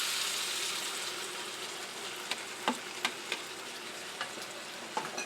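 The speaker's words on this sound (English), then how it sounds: "now what I want to add, my sauce, the rest of my sauce" Chow mein sauce hits a hot wok with a steady, bright sizzle, broken by a few sharp crackles and spatters as it fries, heard close up with no talking.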